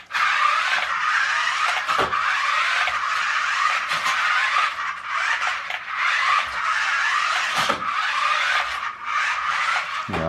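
A Toys R Us Model 90154 RC toy car racing with its wheels spinning, a continuous high-pitched whine and scrabbling tire noise that surges and dips in loudness, close and loud throughout.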